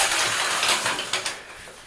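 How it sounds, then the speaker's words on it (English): A shower curtain being pulled shut, a soft rustling, scraping slide with small clicking rings along the rail, close by in a quiet room, lasting under two seconds. "The sound that you heard earlier was of course the sound of the shower curtain, which is now closed"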